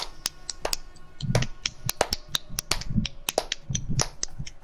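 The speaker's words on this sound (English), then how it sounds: "I'm slapping the back of my hand." Sharp, loud slaps of a hand striking the back of another hand, sounding in an irregular series of crisp smacks close to the mic, some with a low thump, over quiet background noise.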